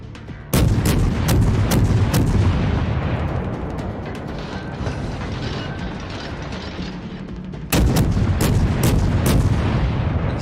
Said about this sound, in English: Here it is, our quick firing capabilities, and we constantly shooting at the enemy, constantly doing damage to them